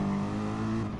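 An onboard race car engine drones steadily for about a second, with a sustained tonal hum and no talk over it.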